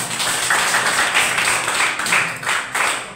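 An audience at a presentation in Bali applauds loudly and steadily for about three seconds, a dense rolling clatter of many hands with slight surges, and no voices over it.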